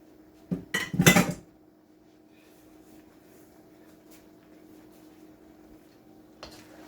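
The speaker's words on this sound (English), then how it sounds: "I'm shaking out my bowl to get out all the seasoning" Seasoning shaken out of a bowl while making Jamaican-style peppered shrimp, heard as a brief burst of clattering dish and utensil knocks near the start, then quiet kitchen room tone with one faint knock near the end.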